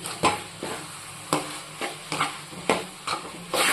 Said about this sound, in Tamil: இப்போ நம்ம சேர்த்துக்கிட்ட வெண்டைக்காவை ஒரு 5 நிமிஷத்துக்கு நல்லா வதக்கிடுவோம்